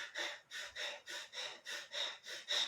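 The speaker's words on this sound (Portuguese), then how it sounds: "E seria uma respiração rápida e superficial" Rapid, shallow breathing demonstrating tachypnea: about eight quick, even breaths in under three seconds, close and soft with an airy hiss, no talk.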